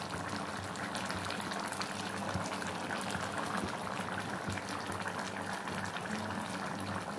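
Crab and potato curry boiling in a pot, bubbling and gurgling in a steady, dense simmer that stays close and unbroken throughout.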